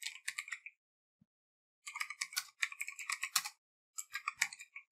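Bursts of keystrokes on a computer keyboard, close and fairly quiet, typed in quick irregular runs separated by short pauses, with no talking.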